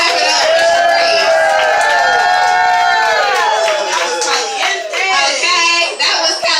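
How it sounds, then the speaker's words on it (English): Loud audience clapping and cheering at a poetry open mic show, dense and continuous, with whoops and raised voices riding over the applause as it tapers slightly toward the end. "Y'all better clap it up for Cherie."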